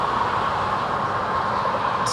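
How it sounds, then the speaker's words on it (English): Steady traffic noise heard from inside a Howard Johnson hotel room, a continuous broad rumble and hiss with no distinct events, fairly loud and constant throughout. "you hear all the noise, which is the traffic"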